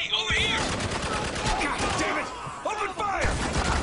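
Dense firefight gunfire from the Spec Ops: The Line game demo on Xbox 360, rapid shots and bursts packed together at close range over sustained battle noise, with someone talking over it.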